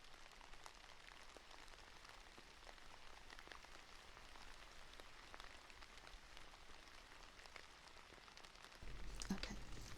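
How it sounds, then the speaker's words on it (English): An ASMR rain disc gives a soft, steady rain-like patter throughout, quiet and close, then a louder rustling burst near the end as it is picked up. "I gotta go grab the rain disc, because it's noisy when I pick it up."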